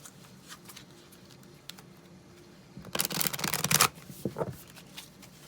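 A deck of tarot-style reading cards is shuffled close by, quiet at first, then a dense burst of riffling and flapping for about a second, with a few scattered card taps afterwards and no voices.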